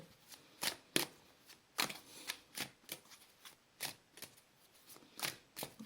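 Tarot cards are shuffled and cut by hand, with a quick series of close, crisp riffling snaps and slaps in an uneven rhythm, alone in a quiet room.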